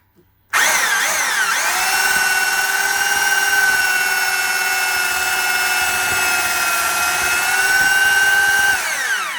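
A steady, high-pitched power drill whine runs continuously for several seconds as it bores holes in plywood, starting abruptly and holding a constant tone close by.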